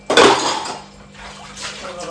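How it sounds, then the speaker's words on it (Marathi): Dishes, pots and pans are scrubbed and washed by hand in a home kitchen: a sharp clatter of utensils up close, then softer rubbing and faint splashing. "पटापट घासते भांडी"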